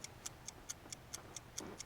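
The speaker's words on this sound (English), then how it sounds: "stop making that mother trucking, fudging, ticking sound" Steady mechanical ticking, evenly spaced sharp clicks roughly every quarter second like a clock, quiet and close, with no voices over it.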